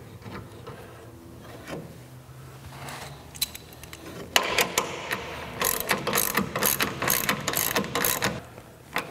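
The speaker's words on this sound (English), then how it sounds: "once you have it in place, then go ahead and tighten it up." A rail clamp on a TruXedo TruXport tonneau cover is tightened with a ratchet, making rapid repeated clicking bursts up close that grow denser and louder after a few quieter handling sounds, with no talking.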